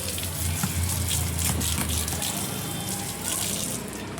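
A flower-picking basket is rinsed under running water, with a steady, fairly close gush of water from start to finish.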